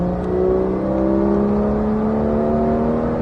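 A 991-generation Porsche 911 GT3 accelerating hard around the Ladoux race circuit, its engine note climbing steadily in pitch as a loud, continuous close-up drone from inside the car.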